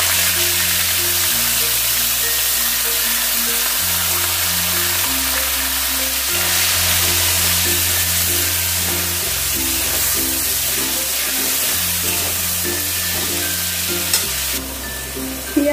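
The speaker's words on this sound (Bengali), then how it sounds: "পেঁয়াজের বাটাটাকে দিয়ে আমি একটু ভালো করে একটু নেড়ে নিলাম, প্রায় 2-3 মিনিটের মতন।" Onion, ginger, garlic and chilli paste fries in ghee for shahi paneer, giving a steady, close sizzle with scraping stirs across the pan and no talk.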